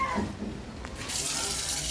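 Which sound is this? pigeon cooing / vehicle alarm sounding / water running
water running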